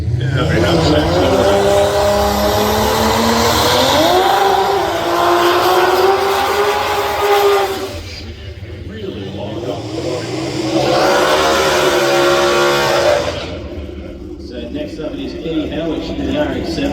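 Drag racing car with a 2JZ engine at Sydney Dragway during a nitro event, a loud engine roaring and revving with pitch sweeps that fades, then a second powerful surge, while a commentator talks throughout.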